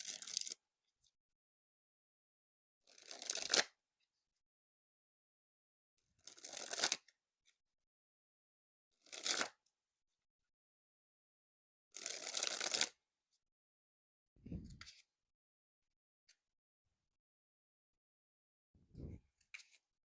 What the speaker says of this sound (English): so they will dribble pretty nicely.